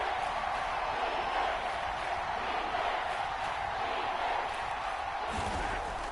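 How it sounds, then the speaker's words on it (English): Stadium crowd noise in an American football video game, a steady, dense roar of cheering that swells slightly, running continuously at moderate loudness. "the crowd getting into it as we come up on a big 3rd down"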